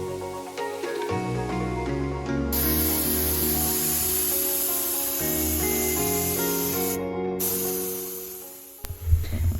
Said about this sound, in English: I have never used this in my HVLP gravity-fed spray gun